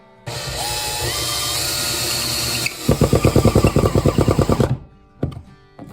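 A power drill whines steadily, then rapid rattling bursts as screws drive into pocket holes in wood, stopping abruptly with a couple of clicks at the end.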